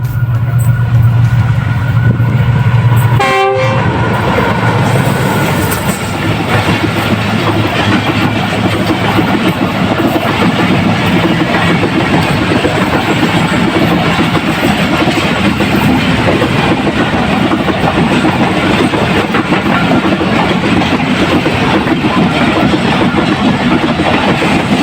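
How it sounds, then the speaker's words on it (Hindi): Awam Express passenger train runs through Nawaz Dahri railway station in light drizzle, a steady loud rumble of wagons and rail clatter filling the whole stretch, with a brief horn-like tone near the start and no talking. "आज का पहला एक्शन 13 अवाम एक्सप्रेस 9045 की लीड के साथ"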